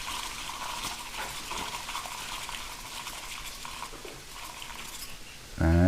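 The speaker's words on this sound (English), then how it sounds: "Then we're gonna whisk it." Matcha tea is whisked briskly with 75 °C water, producing a steady, fast, frothy swishing and sloshing that continues without pause, then ends with a louder thump.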